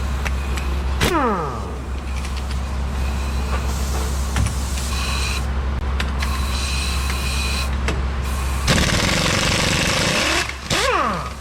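Power wrench driven through a shorter extension on a Ford F350 wheel bearing, a loud steady whirring drone with rising and falling pitch sweeps and a sudden change in tone toward the end.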